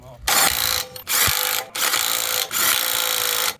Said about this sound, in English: I'm borrowing Raz's impact gun to make sure these shit is tight